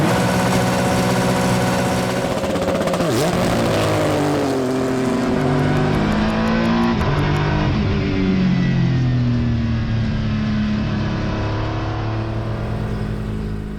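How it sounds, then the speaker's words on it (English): An Acura NSX GT3 Evo race car revving to the rev limiter and then launching, the loud engine note climbing, holding at the limiter, then pulling away through rising gears, close and continuous throughout. "grab that clutch, flip it into gear, and then build up the revs all the way to red line. Once I'm on the rev limiter, I dump this clutch and away we go."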